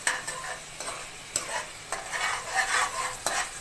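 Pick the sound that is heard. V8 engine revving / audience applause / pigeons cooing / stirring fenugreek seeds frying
stirring fenugreek seeds frying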